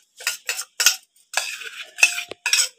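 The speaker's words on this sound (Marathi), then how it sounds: "त्या भांड्यामध्ये हे तांदूळ काढते" Soaked rice is scooped into a metal pot for kheer, making a run of six or seven short, close metallic scrapes and clinks separated by brief pauses.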